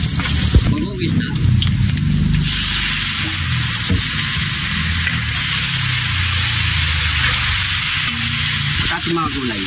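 Garlic, onion and fish sautéing in a hot pan, a steady loud sizzle running unbroken throughout, close up with no pauses, for a fried hito and vegetable pakbet dish.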